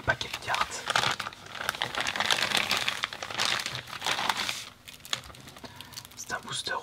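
Sealed plastic-wrapped WOW trading card booster pack crinkles and crackles as it is handled close up, in bursts of rustling with brief quieter gaps, while someone speaks softly in French.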